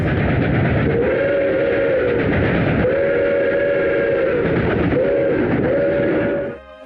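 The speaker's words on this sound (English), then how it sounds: "The locomotives came equipped with a Nathan 6-chime step-top whistle." A New York Central J1 Hudson steam locomotive's Nathan six-chime step-top whistle sounds in long, loud sustained blasts with brief breaks, rich in layered harmonic tones, then cuts off.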